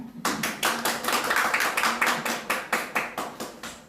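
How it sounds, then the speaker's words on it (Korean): An audience at a women party members' education session claps to welcome a councillor to the podium, with steady, rhythmic, evenly spaced claps of moderate loudness and no talk over them. "큰 박수 주십시오."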